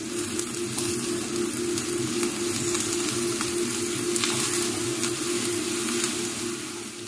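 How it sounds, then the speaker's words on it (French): Pan of thyme and brown sugar caramelizing, a loud, steady close-up sizzle and crackle with occasional stirring scrapes throughout, no voices. "je mélange le tout pour que ça caramélise un peu"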